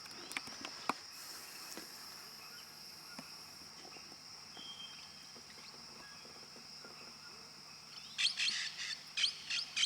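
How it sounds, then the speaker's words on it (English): Birds chirp and call in a quiet, steady outdoor setting on a Peruvian lake, where hoatzins are present, with a dense burst of louder chirping near the end over a faint background hum. "A stinky bird."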